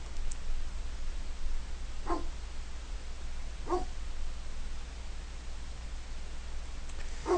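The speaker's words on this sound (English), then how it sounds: "I apologize for my dog barking." A dog barks three times at spaced intervals, single sharp barks somewhat distant over a steady low room hum, with no talking.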